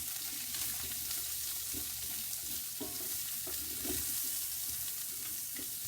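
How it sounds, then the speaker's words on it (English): One medium onion frying in oil for a tagine gives a steady, even hiss of sizzling, broken by soft stirring scrapes, close up and with no voices. "I'm going to go ahead and add in my onions"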